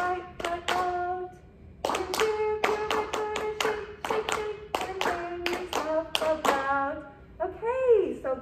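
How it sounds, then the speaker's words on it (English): Children clap rhythms in a music lesson, a run of sharp, close hand claps in patterned groups with brief pauses between phrases, and short bits of a voice speaking near the end. "Thank you very much for clapping the rhythms very correctly on that one."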